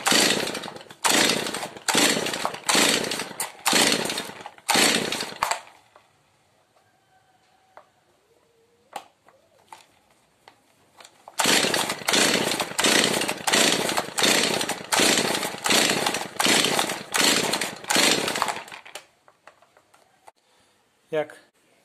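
Repeated sharp rasping pulls of a Stihl 023 chainsaw's starter cord, on full choke with fresh fuel, come in two quick series separated by a quiet pause; the engine never catches.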